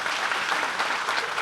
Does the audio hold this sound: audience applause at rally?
yes